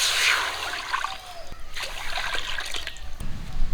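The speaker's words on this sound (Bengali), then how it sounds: "কড়ায় জল দিয়ে দিচ্ছি" Water pours and splashes into a wok set up to boil potatoes and eggs, a close, bright trickling stream that stays loud and steady with small sloshing surges.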